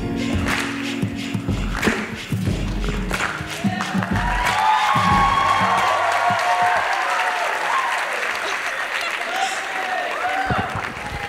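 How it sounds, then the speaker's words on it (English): An audience at a multicultural night in a high school hall claps together on cue, loud sustained applause with scattered thumps and a few voices, swelling midway and holding steady before tapering. "Now everybody just clap your hands like this."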